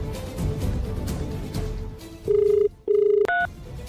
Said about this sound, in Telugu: చేయి సీత, ఫోన్ చేసి మాట్లాడు.